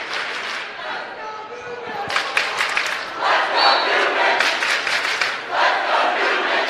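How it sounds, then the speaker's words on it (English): High school women's volleyball crowd at Windsor vs Cardinal Newman cheering loudly at set point, a swelling roar of shouts and yells that surges in waves, with claps and thuds mixed in. "Crowd getting into it"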